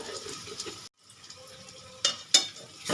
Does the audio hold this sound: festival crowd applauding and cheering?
no